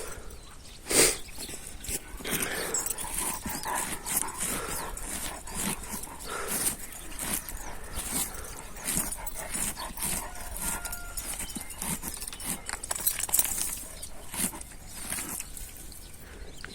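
Dogs from a herd of sheep and goats bark in scattered sharp bursts, with softer whimpering between, nearby and fairly loud over an outdoor background.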